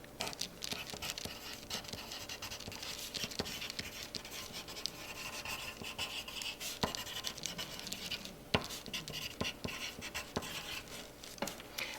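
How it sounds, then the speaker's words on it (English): Pencil scratching across colored paper as a first grader's name and teacher's name are written, a steady close scratchy rustle with small taps and paper shuffles throughout. "We're going to start by writing our first and last name and our teacher's name on the piece of colored paper."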